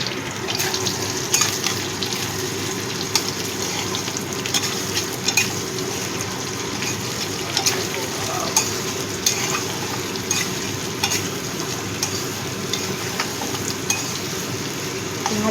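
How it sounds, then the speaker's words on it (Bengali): Potatoes and onions fry and sizzle in a pan while being stirred, a steady hiss with frequent scraping clicks of the spatula, close and continuous, with no talking. "পেঁয়াজটা দিয়েও মিশিয়ে দিচ্ছি।"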